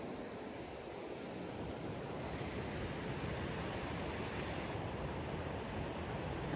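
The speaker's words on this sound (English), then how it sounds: "this is the world's largest urban whitewater place" Whitewater rapids on an urban whitewater course on the Chattahoochee River in Columbus, Georgia, give off a steady, dense roar of rushing water that holds at an even loudness throughout, with no voices.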